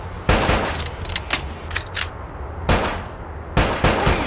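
Bursts of gunfire from the Bad Boys: Miami Takedown game on the original Xbox, in three loud rapid volleys with short pauses between them, heard alone.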